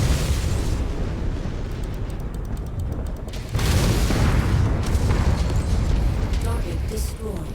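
Shelling explosions in the MechWarrior 5 game, dense booming blasts rumbling continuously with a heavier burst midway, with faint talk beneath.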